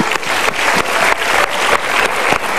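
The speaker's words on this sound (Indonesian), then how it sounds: "Sudah, kita berikan tepuk tangan." Studio audience applause at an Indonesian motivational talk show, a steady wash of clapping holding loud and even across the whole stretch, with faint pulsing swells and no voices over it.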